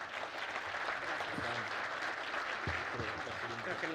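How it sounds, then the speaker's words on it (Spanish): Audience applause at an education forum on the basic education model, steady broadband clapping of a seated crowd filling the room, held evenly throughout with faint voices underneath. "Le recibimos con un fuerte aplauso"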